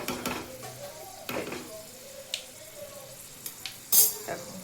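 Hot oil sizzling in a pan while fish pickle is being made, a soft steady frying hiss broken by a few clinks and scrapes of a utensil against the pan, close and fairly quiet.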